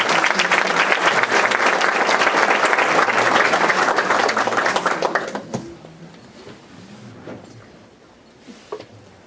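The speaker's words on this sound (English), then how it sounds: "Please join me in a round of applause for these students" Audience applause fills a school board of trustees meeting for students, a loud sustained clapping for about five seconds that abruptly fades to quiet room noise.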